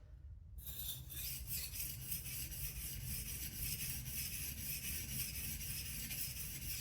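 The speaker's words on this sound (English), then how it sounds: "I'm using my Veneve resin bonded diamond stones" A knife blade is rubbed back and forth on resin-bonded diamond sharpening stones, giving a steady, close rasping scrape with a faint rhythmic pulse and no voices.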